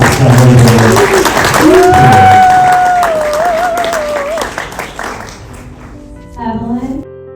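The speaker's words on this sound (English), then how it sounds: "we can give them a big round of applause as they come up to celebrate" Wedding guests in New Orleans applaud as a group, a burst of many hands at the start. A sustained musical tone and speech soon cover it, and the clapping fades under chatter.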